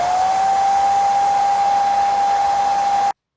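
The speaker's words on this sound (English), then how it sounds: "With the hairdryer, use a low setting to bake" A hair dryer whirs steadily on a low setting with a constant high whine, running alone for about three seconds before cutting off abruptly, used to bake miniature doll bread.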